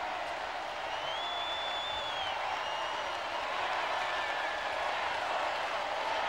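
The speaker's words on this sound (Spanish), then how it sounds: "El aplauso de la Quinta entera, la ovación de la Quinta Vergara para la ley." Festival audience at the Quinta Vergara amphitheatre in Viña del Mar giving La Ley a sustained ovation, a dense wash of applause and crowd noise holding steady and slightly swelling, with faint whistles above.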